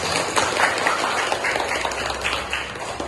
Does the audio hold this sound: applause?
yes